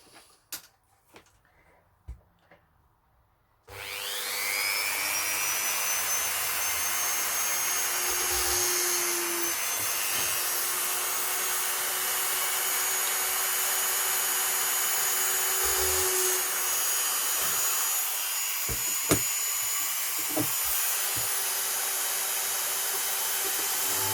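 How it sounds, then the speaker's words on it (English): After a few soft knocks, a power drill starts up and runs continuously with a steady high whine, loud and close, with small bumps near the end, used on a stained glass box. "Let's now get the drill."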